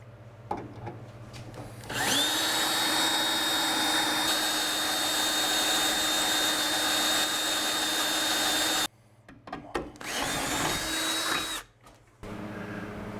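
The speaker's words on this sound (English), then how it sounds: "This drill bit right here, the big one, will knock out around the entire spot weld" A power drill whines at a high, steady pitch as it bores out spot welds in a car's metal hinge pillar for several seconds, stops briefly, then runs again in a shorter burst.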